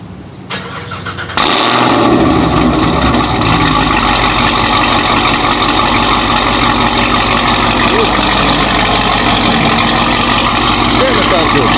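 A 750hp Camaro ZL1 with Kooks headers fires up after a brief quiet moment, catching with a loud burst and then settling into a steady, heavy, rumbling idle that carries on without a break.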